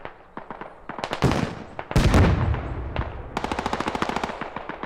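Automatic gunfire in the military shooter game Squad, several close rapid bursts with a loud heavy report in the middle, ending in a fast rattling volley.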